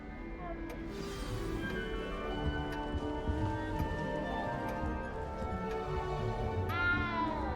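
A cat meows in the Hogwarts Legacy video game against a dense, steady bed of game music and ambience. The call is fairly clear and comes through over continuous background sound, with no spoken words.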